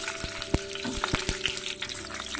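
Onion, ginger, green chili, garlic and tomato fry in a wok for matar paneer, a constant sizzle broken by sharp scraping stirs and clicks, close and fairly loud.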